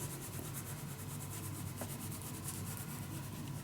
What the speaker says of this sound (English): Let me first burnish it well.